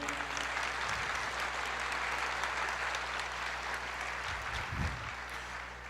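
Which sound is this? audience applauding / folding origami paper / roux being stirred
audience applauding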